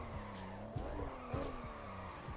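Car tires squeal and skid while drifting through traffic in a racing video game, with wavering, sliding squeals layered over engine roar and a couple of sharper bumps.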